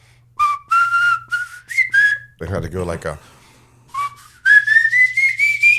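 A person whistles a bright melody in short rising phrases. The tune breaks off for a moment of speech in the middle, then resumes with a longer, climbing run.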